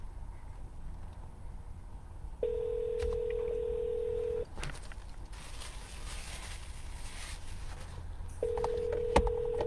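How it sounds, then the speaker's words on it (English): An auto-dialer runs during real estate cold calls to for-sale-by-owner sellers, giving two steady, moderately loud dial-type tones, one early and a second near the end, over faint background noise. "Just keep the dialer rolling."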